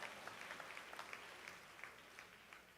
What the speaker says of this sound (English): that is worthy of a round of applause